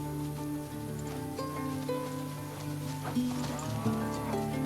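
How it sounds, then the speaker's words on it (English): Cattle being herded through a Pantanal wetland on a ranch, with several cows mooing in long, overlapping calls at moderate distance and a soft patter of rain underneath. "These pantaneros herd cattle through the wetland all year round."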